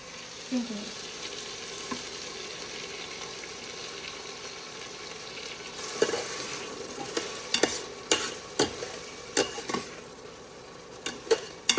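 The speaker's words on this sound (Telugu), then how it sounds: "ఎంత చక్కగా ఫ్రై అయిపోతుందో" Tomato, ginger garlic paste and onion masala sizzle steadily while frying in an Instant Pot, with a spoon stirring and scraping the pot in repeated sharp clinks.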